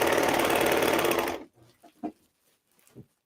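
Serger sewing machine stitching across fabric for a carrot stuffed toy, a loud, fast, steady mechanical whir that stops abruptly partway through and leaves a few faint handling knocks.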